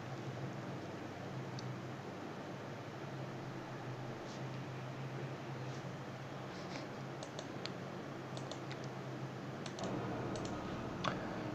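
Computer keyboard being typed on while writing C++ code, with sparse light key clicks scattered over a steady hiss of background noise.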